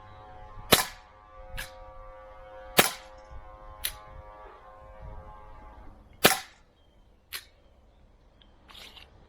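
Cybergun Glock 17 Gen4 airsoft pistol firing with a weak recoil spring that lets the slide struggle to return, giving about six sharp, loud snapping shots at uneven intervals with quiet handling noise between them.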